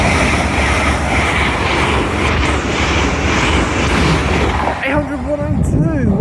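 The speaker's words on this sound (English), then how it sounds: "Pass through now, Azuma's from Inverness." An LNER Azuma Class 800 train passing through a station, a loud close roar of rushing noise that drops away sharply near the end, leaving a wavering whine while a voice talks faintly beneath.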